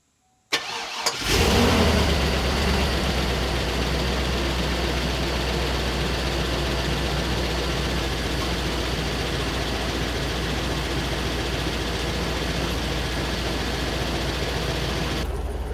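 A rebuilt 6.0 LS V8 in a truck cranks and catches with a quick burst, then settles into a loud, steady idle that runs close and unbroken for the rest of the clip.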